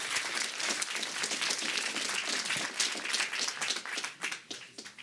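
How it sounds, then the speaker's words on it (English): Applause from a crowd at a tech pioneers event in New York, dense and loud clapping that holds steady before thinning into scattered claps at the end. "One last round of applause for Bodo"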